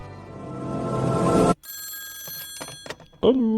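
A telephone bell rings loudly in one long, shrill burst that cuts off abruptly, followed by handset clatter and a brief voice.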